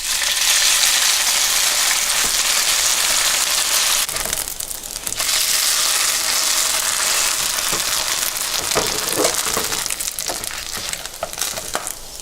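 Noodles frying in hot oil for seafood pan-fried noodles give a loud, dense crackling sizzle that runs throughout, dipping briefly midway before resuming with sharper pops and spatters.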